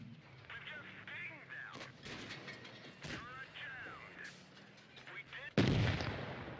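Tank cannon fire in the mobile video game World of Tanks Blitz, an AMX 13 90 battle: a few distant booming shots amid engine rumble and mechanical clatter, then a heavy close blast near the end.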